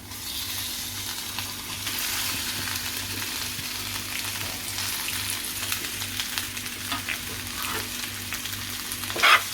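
Potato pieces dropped into hot oil for a Maharashtrian fasting dish fry with a steady, close crackling sizzle throughout, ending in a brief louder clatter.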